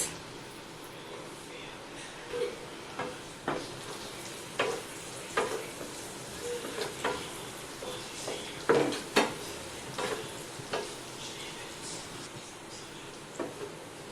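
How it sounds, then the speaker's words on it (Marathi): Garlic, oregano and chili flakes roasting in oil in a pan over low heat for a veg lasagna filling, a soft steady sizzle broken by repeated spatula scrapes and light taps against the pan. "लसूण ऑरॅगोनाचा छान स्मेल येईपर्यंत मंद गॅसवरती आपण ते भाजून घ्यायचं आहे"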